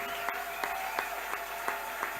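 A church congregation applauds in a steady, regular rhythm, the claps sounding moderately distant over a faint hum, with no clear speech.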